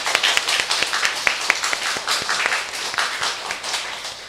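A church congregation claps to welcome new members during a combined Mandarin-Taiwanese worship service, brisk crowd clapping with distinct individual slaps standing out, steady and moderately loud, fading slightly at the end.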